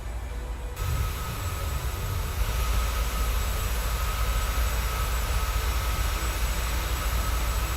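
Exterior sound of a Boeing 737-700 in Microsoft Flight Simulator, a steady, loud broadband jet engine roar that holds unbroken throughout after a brief quieter start.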